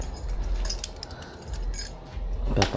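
Keys jangle and clink repeatedly in short metallic bursts at close range, mixed with low handling rumble, with a louder rattle near the end.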